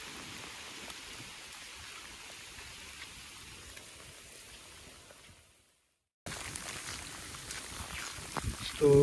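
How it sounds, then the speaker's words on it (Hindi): Steady rain falling on the old stone fort of Ranthambore, a dense even hiss that cuts out to near silence for a moment before resuming slightly louder, with no voices. "काफ़ी बारिश हो रखी है"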